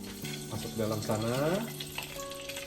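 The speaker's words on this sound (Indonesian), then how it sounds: "Sekarang kita mau goreng ayamnya sih. Ya, ini minyak panas." Chicken pieces, including chicken breast, lowered into hot oil in a home kitchen, a steady sizzling hiss with clattering and stirring beneath someone talking.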